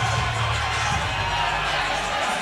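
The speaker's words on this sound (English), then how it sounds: "Getting the crowd pretty hype here." Crowd at an amateur MMA event, Hard Rock MMA 84, a dense continuous roar of cheering and shouting from the stands, loud and sustained throughout.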